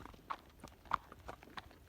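A quarter horse walks slowly on a trail, its hooves making soft, evenly spaced clip-clops that sound faint and somewhat distant, with no voices.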